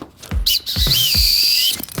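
A single sharp, shrill whistle blast lasting over a second, loud and close, with a few thumps around it.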